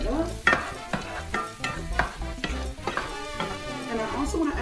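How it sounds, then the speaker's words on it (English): A spoon stirs chile relleno filling with Cajun seasoning in a pan, giving repeated scraping strokes over a steady sizzle. It sounds close and fairly loud, with no one talking. "I'm gonna stir it up."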